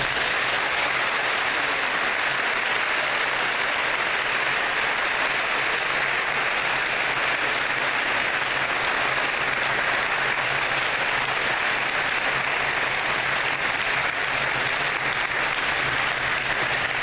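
Sustained applause from a high school audience following a keynote address, a dense, steady wash of clapping that carries evenly through the whole stretch with no talking over it.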